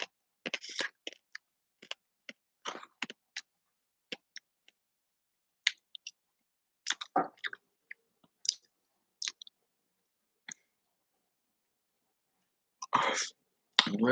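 Someone crunches through the last of a bag of crunchy snack food, close and intimate, making scattered sharp crackling bites and chewing bursts separated by quiet gaps, with no talking.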